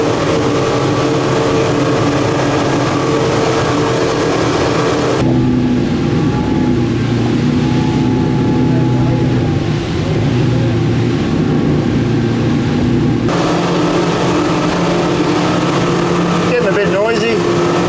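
Twin Yamaha 200 outboard motors on a Seaking 770W boat running at around 5,000 RPM, a loud steady drone close by with heavy wind and water noise throughout.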